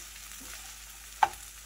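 Fideo noodles toasting in a frying pan give a soft, steady sizzle, with one brief scrape or clack of a spatula against the pan partway through.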